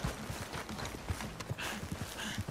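Rhythmic clip-clop of horse hooves trotting steadily in a video game, close and distinct, with a low murmur of ambient noise underneath.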